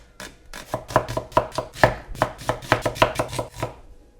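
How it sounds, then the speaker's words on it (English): A knife thinly slices onion on a chopping board, giving a close, steady series of about fifteen crisp taps at an even quick rhythm with no talking. "I just want it thinly sliced. So I'm just going to thinly slice this."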